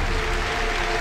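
A television studio audience claps in one dense, steady burst of applause, loud and even throughout with no break and no voices.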